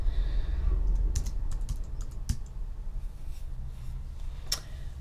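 Keys tapping on a computer keyboard while entering text in a design program, a quick run of clicks and taps over a low steady room hum, close and fairly quiet, with no talk.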